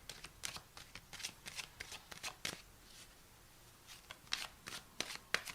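Tarot cards are shuffled close up in quick irregular bursts of crisp riffling snaps and soft flutters, with brief pauses between runs.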